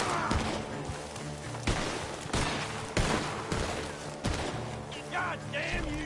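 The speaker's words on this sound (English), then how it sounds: "The gunshots." Gunfire rings out in the video game Red Dead Redemption 2, repeated loud shots and bursts crackling over a busy game soundtrack, with a voice briefly heard near the end.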